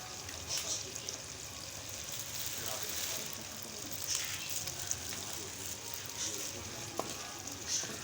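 Steady, dense sizzling of beef frying in a pan with ginger-garlic paste, with occasional stirring clinks and a faint voice talking in the background.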